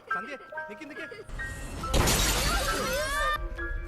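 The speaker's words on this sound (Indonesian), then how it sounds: "mereka berdua melihat atap kaca bandara pecah dan hampir melukai gadis kecil" Glass roof of an airport shattering in a loud burst that crashes and then rings on with scattered falling shards, following a quieter stretch with a voice and soft tones.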